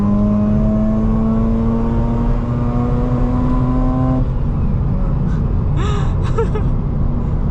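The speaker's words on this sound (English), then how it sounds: "I think we need to redline the car." A Mazda RX-8 rotary engine drones loudly, its pitch climbing steadily as it revs to redline, then cuts off abruptly to a rushing roar of road and wind noise.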